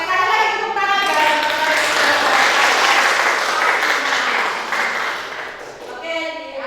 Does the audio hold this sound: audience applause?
yes